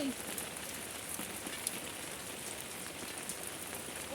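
Steady rain pattering on a surface, a dense continuous hiss with scattered drops, even in loudness throughout.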